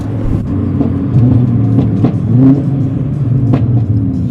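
A tuned APR Stage 3+ Golf R with a TCU tune accelerates hard, its engine note climbing steadily with turbo spool, loud and close for the whole stretch with no talk.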